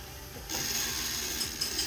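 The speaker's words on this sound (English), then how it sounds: "My work with the grinder is going to start. I just have to grind the small part." A glass grinder shaping small pieces of glass for glass art switches on after a brief lull, then gives a steady close whirring, grinding hiss with faint mechanical chatter that runs continuously to the end.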